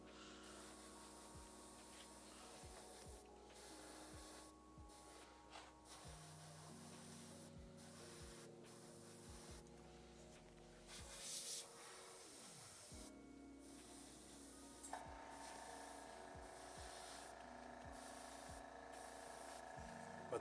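Steady airbrush or spray-can hiss coating a Frost Gargant miniature's skin in paint, running almost continuously for around twenty seconds with short gaps and a faint low hum underneath.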